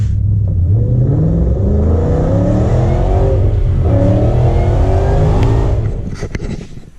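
A supercharged 2012 Ford Mustang GT with a VMP supercharger revs steadily and loudly up close, its engine note rising and falling for several seconds before easing off at the end.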